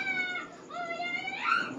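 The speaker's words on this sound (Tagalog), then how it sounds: "Mga pusa, dito pumapasok." Several cats meow indoors at home, a sequence of drawn-out, wavering meows and plaintive wails, fairly close and clear, with no talking over them.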